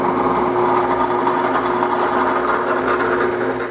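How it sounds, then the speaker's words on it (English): A drill press runs with a steady mechanical whine and hum at close range, its motor spinning at constant speed without pause. "So I'm gonna set up in the drill press and hog that out there."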